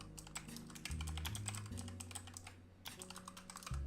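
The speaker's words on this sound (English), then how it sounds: "I don't know if I should be typing." Rapid typing on a computer keyboard with dense, uneven clusters of clicks under steady background game music, briefly pausing before resuming.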